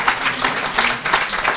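An audience at a Women's Day panel discussion applauds, a dense continuous patter of many hands clapping that fills the room at a steady loudness, with no speech over it.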